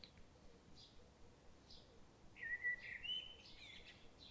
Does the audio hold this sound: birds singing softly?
yes